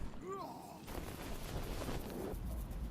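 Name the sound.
gunshots in the video game Deadlight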